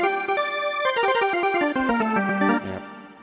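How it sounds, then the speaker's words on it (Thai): A Korg Micro Arranger keyboard plays its D50 string organ voice, a sustained chord followed by a run of descending notes and a final held tone that fades out, with no talking. "สตริงออแกนดีห้าศูนย์"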